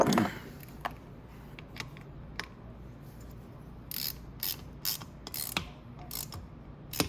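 Close, faint mechanical clicking and ratcheting while the engine cover on a Venom 125cc engine is tightened by hand, a scatter of short irregular ticks that grow busier toward the end, with no talk.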